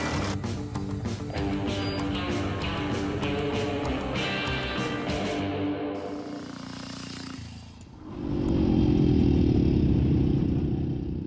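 A classic 175cc motorcycle engine runs with a steady rhythmic beat, then the pitch shifts and the note changes into a louder, rougher roar for the final seconds, close by.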